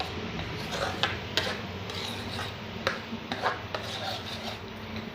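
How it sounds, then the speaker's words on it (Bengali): Mango pulp with cinnamon sticks being stirred in a pan over heat gives a steady scraping, rubbing texture, with sharp spoon-against-pan clicks scattered through it, close and moderately loud. "এখন আমি এটা 2 মিনিট নেড়ে চেড়ে জাল দিয়ে নিব।"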